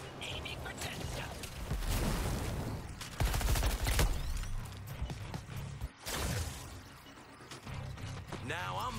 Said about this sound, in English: Now I'm letting the bullets fly.